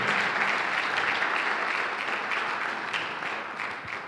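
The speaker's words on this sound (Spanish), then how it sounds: "Tenemos que darle un aplauso al Señor" Church congregation applauding in a sustained, dense wash of clapping that fills the room and slowly tapers off, with no voices standing out.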